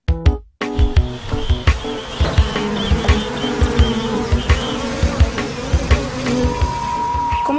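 Native bees buzz loudly and close by at a beekeeping community, a steady insect drone with repeated pulsing swells as individual bees pass near, no talking.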